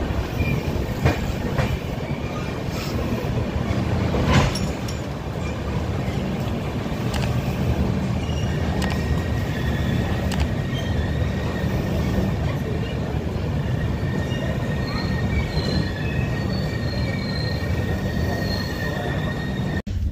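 Shipra Express standing at platform 4 of a busy station, with a steady rumble of rail noise, intermittent wheel squeals and clanks, and background chatter of people throughout.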